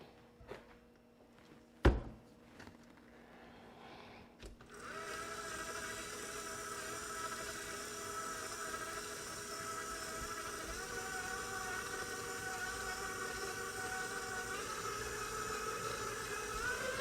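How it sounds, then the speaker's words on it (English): An electric mixer beats cake batter with softened room-temperature butter and vanilla, starting after a few clunks and taps, then a steady whirring motor hum with a high whine that runs on evenly and moderately loud. "we're gonna put this on the mixer"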